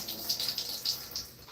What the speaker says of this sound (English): Then I rinse it again.